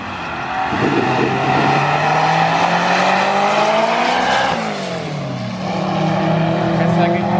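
Stock-block K20 all-wheel-drive Civic sedan making about 600 horsepower on a street drag pass, engine revving up hard through a gear, a missed shift dropping the pitch midway, then pulling again with tire noise; voices talk over it.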